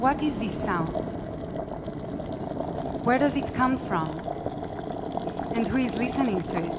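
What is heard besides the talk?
water boiling in a nabe pot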